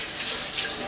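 Tap water runs in a brief, steady gush as hands are washed at a kitchen sink between handling pastry ingredients, a short close splashing stream.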